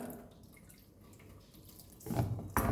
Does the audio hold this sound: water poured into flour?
yes